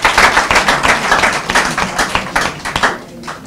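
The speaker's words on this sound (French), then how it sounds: "Je vous prie de vous applaudir, vous tous, que ce soit à gauche ou à droite." An audience at a delegates' assembly applauds with loud, close, rhythmic clapping that keeps a steady beat and thins out toward the end.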